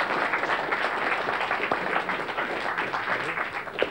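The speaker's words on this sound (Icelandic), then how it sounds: "Það má alveg klappa fyrir þessu ef okkur finnst þetta svona voða fyndið." Audience applause at a live Icelandic entertainment show, a steady dense crowd clapping that fills the whole stretch at even loudness without pause.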